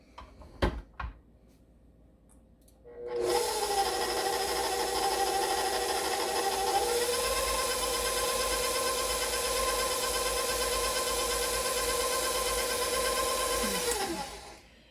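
An electric mixer churns Andes mint cookie dough on slow speed. A few light knocks come first, then a steady whirring motor hum runs for about eleven seconds before cutting off.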